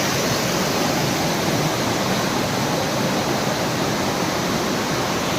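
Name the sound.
waterfall at Jatashankar Mahadev temple, Girnar, in rain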